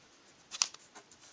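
A Koh-i-Noor eraser rubs across a sheet of paper, making a few short, dry scratching strokes up close: one louder burst followed by fainter, quick scrubs, with no talking.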